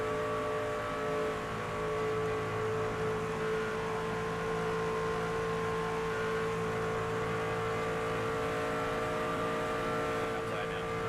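Race cars lap a track in the video game NASCAR 25, their engines a steady, unbroken droning roar that holds at the same loud level throughout, with a pack of cars running close together.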